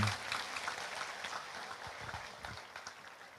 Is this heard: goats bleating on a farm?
no